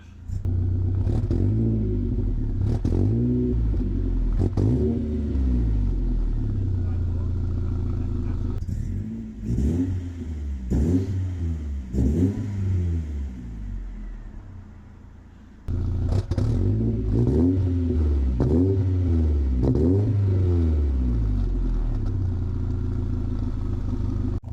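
BMW E46 coupe engine revved in repeated blips, briefly coughing on each press of the throttle before climbing in revs, loud and close with a short dip in the middle.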